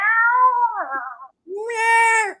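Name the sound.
person imitating a cat meow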